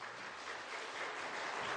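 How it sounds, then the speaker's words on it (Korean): A congregation gives soft, steady applause during a Korean church praise service. The clapping is faint and even, heard alone for under two seconds. "박수 한번 부탁드리겠습니다."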